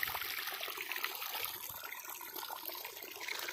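Steady rushing and splashing of canal water flowing into a farm field, continuous and fairly loud throughout, with no voices.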